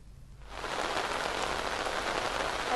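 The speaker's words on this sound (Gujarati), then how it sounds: "અત્યારે ભારે વરસાદ પડી રહ્યો છે" Heavy monsoon rain pouring down in the Prahladnagar and SG Highway area of Ahmedabad, rising after a quiet half-second into a loud, steady, unbroken roar.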